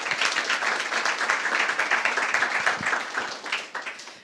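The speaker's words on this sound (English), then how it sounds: "I'd like to welcome Arthur with a big applause" Audience applause welcoming a speaker to the stage, a dense, steady burst of many hands clapping for about four seconds that fades slightly at the end.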